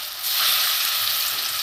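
Boiled, mashed eggplant and grated potato sizzle in a hot pan with spices. The frying starts after a brief quiet moment, then a steady, bright crackle and hiss carries on close up without any voices.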